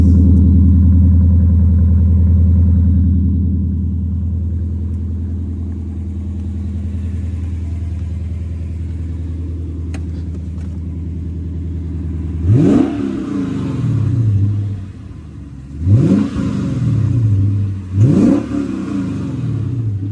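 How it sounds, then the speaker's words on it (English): A 2022 Lexus RC F with a naturally aspirated 5-liter V8 and quad exhaust tips idles with a deep throaty rumble, then revs hard three times in sharp rising bursts. "This car does have a nice throaty exhaust."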